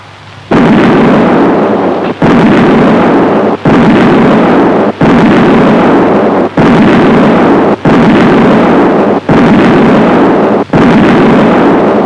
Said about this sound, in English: The simulation is done by means of a cartridge that produces a long nozzle flame